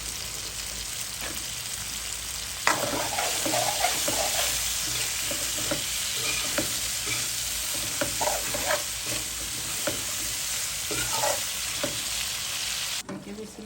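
Flat beans, brinjal and potato frying in a pan for a rohu fish curry, a steady hissing sizzle under repeated stirring and spatula scrapes, close and continuous, with no one speaking.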